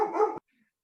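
A guard dog gives a single short, fairly loud bark at someone outside, cut off abruptly and followed by near silence.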